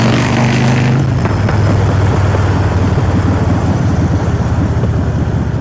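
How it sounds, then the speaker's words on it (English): A loud, steady engine drone fills the clip with heavy wind buffeting roaring over it, continuous and close, picked up by a Hollyland Lark M2 mic on a GoPro Hero 8 Black. "Quite a lot of wind noise, definitely loads of engine noise."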